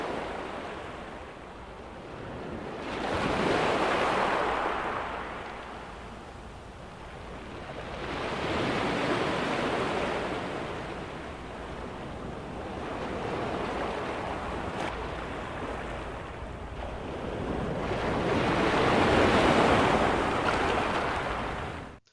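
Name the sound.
ocean wave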